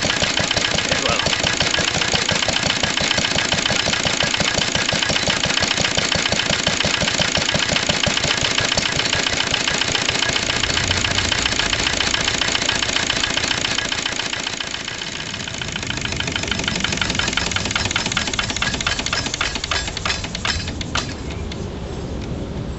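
A 1945 Lister D stationary engine runs alongside a louder diesel engine, a loud continuous close chugging drone throughout that shifts and thins near the end as one engine is stopped, no talking.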